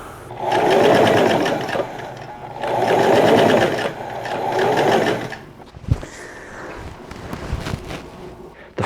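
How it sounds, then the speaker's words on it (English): A sewing machine stitches sleeves onto a top in two steady whirring runs of rapid needle strokes, close and clear, followed by quieter handling clicks and thumps of fabric being adjusted. "it was time to sew once again"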